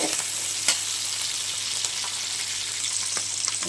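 Tomatoes with salt sauté in a pan for sambar, a steady bright sizzle and hiss with a few soft clinks of stirring, continuous and close throughout.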